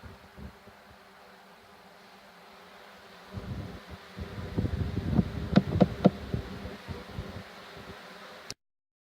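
A swarm of honey bees hums steadily in the background, then louder rustling and snipping start close by as the swarm is lowered into a box, ending abruptly.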